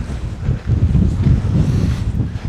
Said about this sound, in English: The wind is really getting up.